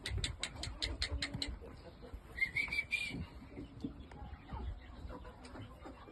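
Shamo game chickens moving about a breeding pen, with soft clucks and scattered bird calls at moderate distance over rustling ground noise.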